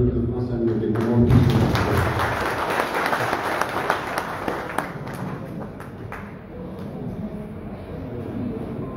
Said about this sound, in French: je vous demande aussi un tonnerre d'applaudissements